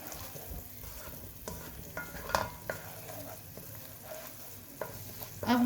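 Masala for bhuni moong dal roasts with a steady sizzle in a pan as a spoon stirs and scrapes the sides, giving scattered scraping strokes and clinks close up and fairly loud.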